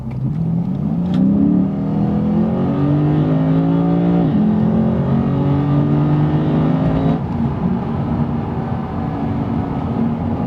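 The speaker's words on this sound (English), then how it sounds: "I'm getting on the highway, so I'll slow down a little bit and really kind of get this thing up to speed" A 2015 Lexus RC F in Sport Plus accelerates hard onto a highway, its engine note climbing steadily through the gears with a loud, sustained rising drone and a brief shift dip partway through.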